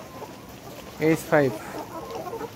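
Layer hens of the Nourish layer breed, about 183 days old on an egg farm, give two short, fairly loud clucks in quick succession over a soft, steady barn background.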